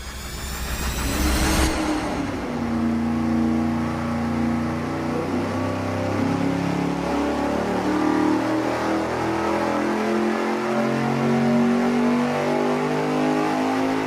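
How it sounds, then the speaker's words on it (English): A supercharged engine fitted with a ProCharger centrifugal blower roars through a dyno pull, rising steadily in pitch from a rough start into a long, loud sustained howl with the whine of the blower on top. "We have our ProCharger centrifugal blower installed. Now we're going to run it for the numbers and see what it does."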